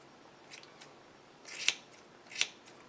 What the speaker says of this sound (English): So I think I'm going to trim this down just a little bit more.